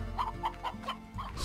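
A hen in the Slime Rancher video game clucks in a quick series of short, clear calls over a low background hum, with no talk.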